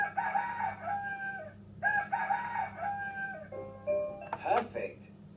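A red toy rooster crows loudly up close in a drawn-out cock-a-doodle-doo, repeated twice, then ends with a burst of clucking.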